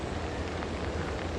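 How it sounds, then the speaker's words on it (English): Steady rain falling outdoors on a north lot during flooding, a dense continuous hiss close by with no talk over it. "Rain's picking up, so we'll get this camera out of this rain."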